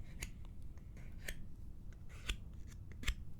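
The protective tab is peeled off an iPhone 17 Pro Max box, heard as quiet, close crinkly clicks and small crackles scattered across a few seconds.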